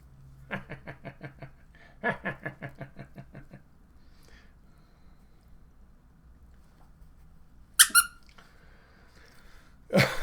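A dog squeezes a squeaky toy, giving two quick bursts of rapid rhythmic squeaks followed by a pause and then a few sharper isolated squeals, close and fairly loud in a quiet room.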